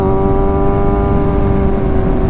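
A 2022 Kawasaki ZX6R motorcycle engine held at 6,000 RPM, a loud, steady, high-pitched buzzing whine with strong harmonics, close and alone without talk.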